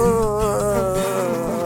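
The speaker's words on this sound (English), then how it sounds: "an energetic fly buzzed clockwise and then counterclockwise over his head" An energetic fly buzzes in circles close overhead, a steady, continuous whining drone that holds for the whole moment with no voices.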